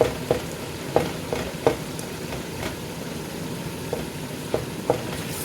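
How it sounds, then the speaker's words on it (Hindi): Masala fries in a pan for mash ki daal, a steady close sizzle punctuated by regular scraping knocks of a spoon stirring, with no talking. "ये देखिए जी कितना अच्छा मसाला बन गया, भुन गया।"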